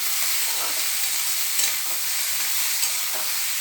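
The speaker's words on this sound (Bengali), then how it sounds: "এবারে এটাকে একটু কষিয়ে নিচ্ছি, লাউ আর কুলটাকে একটু কষিয়ে নেব।" Bottle gourd and jujube sautéing with turmeric in a pan, a steady soft sizzle with faint scraping stirs now and then, close and even throughout, no voices.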